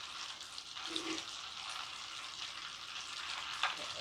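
Butter bubbling in a pan as it cooks down into ghee, a soft, steady fizzing sizzle with faint pops, quiet and close, with no voices.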